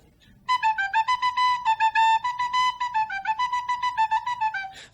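A recorder plays Mary Had a Little Lamb by ear, clear tongued notes in a steady simple melody, close and alone.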